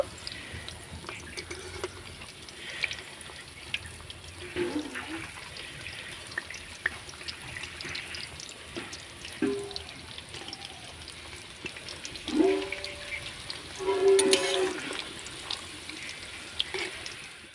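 Cauliflower pakoras fry in hot oil and get stirred around the pan, giving a soft, continuous crackling sizzle with occasional louder splutters and clinks, fairly quiet and close.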